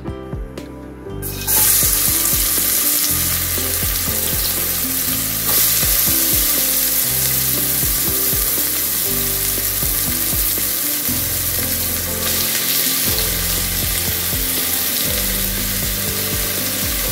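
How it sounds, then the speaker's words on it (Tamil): Onions frying in hot oil inside a pressure cooker for a mutton and beetroot gravy, a steady loud sizzle that flares when they hit the oil, with repeated stirring scrapes throughout. "இப்போ வந்து ஆனியனை சேர்த்துக்கலாம்."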